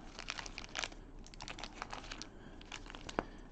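Pokémon trading cards being shuffled by hand, a quiet run of rapid crisp flicks and light crinkly rustles with an uneven rhythm, close up and heard alone.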